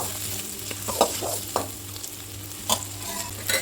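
Onions and two dried red chillies sautéing in hot oil with cumin seeds, a soft steady sizzle broken by several sharp scrapes and clinks of a spoon stirring the pan.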